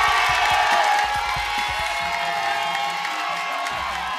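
A studio audience shouts and cheers loudly and continuously, a dense wall of voices with whoops.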